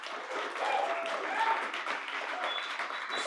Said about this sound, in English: can we give that a round of applause real fast?